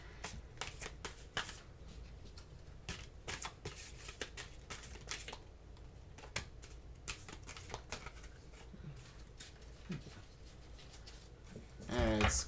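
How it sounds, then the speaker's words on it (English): Oversized long tarot cards shuffled by hand, a rapid crisp patter of riffling card edges repeating throughout at a soft, close level. "this shuffling has been an interesting deal with them"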